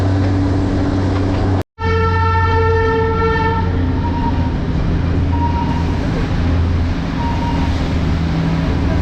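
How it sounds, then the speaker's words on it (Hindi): Darjeeling Himalayan Railway toy train rolling on after a halt at Batasia Loop, with a loud low rumble of wheels and a sharp horn blast near the start that rings on and fades, all close and continuous. "बतासिया लूप में कुछ देर ठहरने के बाद हमारी ट्रेन फिर से होम के लिए आगे बढ़ चुकी है।"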